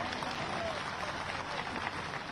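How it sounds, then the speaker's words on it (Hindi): Audience applause welcoming a guest at a political gathering in Madhya Pradesh, a continuous distant wash of clapping from a crowd, fairly faint throughout. "आज सबसे पहले नत्थू कौल जी का तालियां बजा के आप स्वागत कीजिए"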